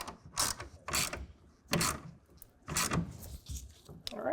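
A ratchet tightening a clamp on a RealTruck BAKFlip G2 hard folding tonneau cover on a 2024 GMC Canyon, sounding as a series of separate bursts of ratcheting clicks, close and moderately loud.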